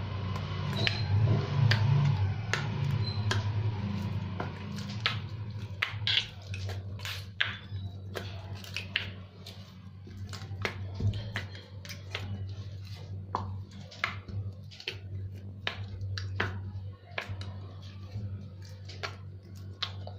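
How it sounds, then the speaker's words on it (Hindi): Roti dough being kneaded by hand: soft, sticky squishing and slapping sounds in an irregular rhythm, close and quiet over a low background hum. "फिंगर्स के साथ ही बहुत अच्छा आटा गूंदा जाता है।"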